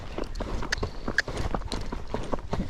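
A Tennessee Walking Horse's hooves strike the ground in a quick, even clip-clop rhythm, close and fairly quiet, with faint background noise and no talk.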